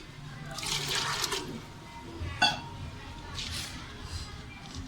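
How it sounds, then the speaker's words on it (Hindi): Water is poured into chickpeas and split masoor lentils in a pressure cooker, a close gurgling, splashing pour that runs for a few seconds, with a metallic clink partway through. "थोड़ा सा पानी डालेंगे इसमें।"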